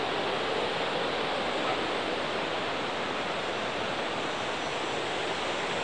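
Water rushes over the dam on the Humber River at Raymore Park in Toronto, a steady, dense roar that holds at one even level throughout, with no voices.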